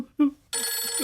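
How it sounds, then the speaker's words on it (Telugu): A mobile phone ringtone bursts in and keeps ringing steadily after a brief voice, loud and close, in a tense indoor movie scene. "రింగ్ టోనరా అది?"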